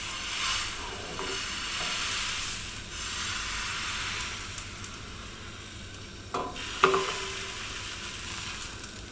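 Pancake batter frying over fairly high heat in a buttered pan gives a steady close hiss and sizzle that runs throughout, with a brief clatter near the end as the pan is shaken.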